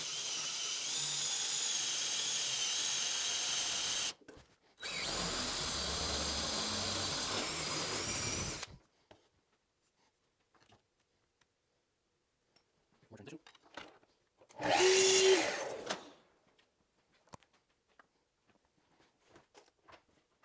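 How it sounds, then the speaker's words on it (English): A power drill with a drill bit bores holes in wood for a router bit storage rack, sounding as two long, steady whirring runs followed by a short, sharp burst, with quiet pauses between them. "we're just going to drill these and glue them in."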